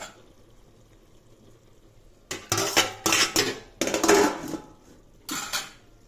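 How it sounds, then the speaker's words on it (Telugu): Metal pan and pot lid set down with several loud, close clanks and rattles during biryani cooking, arriving in bursts after a quiet stretch of low kitchen background. "ఇదిగోండి ఈ విధంగా కింద ప్యాన్ పెట్టుకొని మీద బిర్యానీ పెట్టుకొని"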